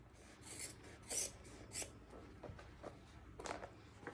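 Scissors cut across a piece of denim jeans fabric for an apron, giving short, soft rasping snips in an irregular series, close and quiet.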